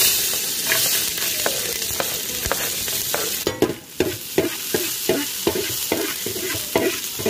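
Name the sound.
chopped ginger and garlic frying in oil in a pan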